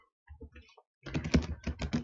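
A computer keyboard is typed on to enter a gobuster command, a few soft scattered keystrokes followed by a quick, dense run of close clicking keys.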